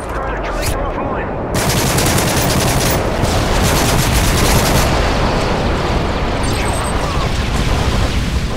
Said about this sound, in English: Nighthawk, you are cleared for bomb run on. Affirmative, HQ bombs away